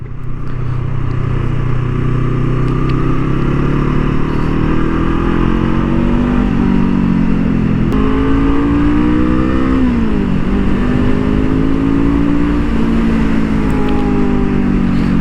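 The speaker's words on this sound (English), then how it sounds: "Yeah, nice sound of the exhaust." A 2023 Honda CL 500 motorcycle roars steadily on a racing track, its exhaust close and loud, rising through the revs with brief gear-shift dips and no talk.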